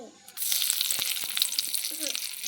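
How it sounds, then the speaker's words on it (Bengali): Bay leaves and whole spices hit hot oil in a pan, setting off a sudden loud, steady sizzle that holds close and bright throughout with small crackles. "তেলের মধ্যে আরেকটু তেল দিয়ে দেব ফোড়নও দিয়ে দেব তেজপাতা দুটো"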